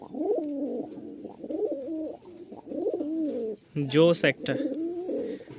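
A male Giribaz tumbler pigeon coos in repeated rolling phrases close by, with a brief flutter or scuffle partway through and a voice speaking over the birds.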